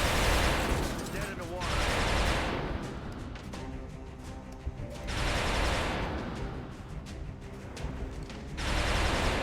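Gunfire during suppression in the video game XCOM Long War, with two loud bursts of rapid shots, each lasting about two seconds and separated by quieter gaps.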